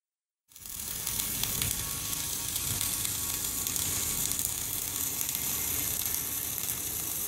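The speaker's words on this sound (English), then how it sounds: "Now you are ready to conduct gas argon shielded welding." Steady hiss and crackle of gas argon shielded welding with an I-COMBO multiprocess welder, starting abruptly after a brief silence and continuing evenly and close without pause.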